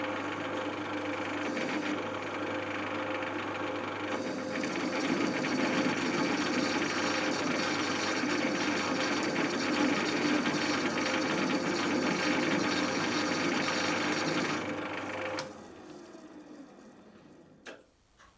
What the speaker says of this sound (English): I'll just put the lathe on slow speed, squirt a cutting fluid, and then I'll just run the blade in until it's taken a few thou off.